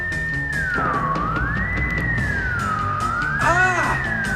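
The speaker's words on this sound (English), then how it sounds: "at once the air is filled with a piercing, ear-splitting sound" A piercing sonic disruptor gadget in a Batman audio drama lets out a loud, siren-like electronic wail that sweeps slowly up and down in pitch and swells with warbling overtones near the end.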